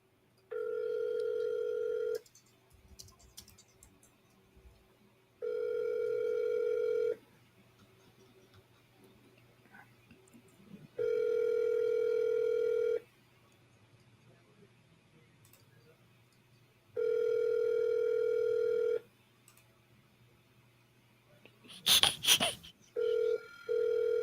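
An outgoing telephone call rings back in five long, evenly spaced tones with quiet gaps between them, and a short burst of handling noise comes near the end.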